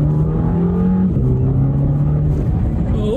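An Audi TT mk2 with a double-clutch gearbox accelerates hard from inside the cabin. The engine note climbs, drops briefly at a quick gear change, then climbs again, loud and continuous.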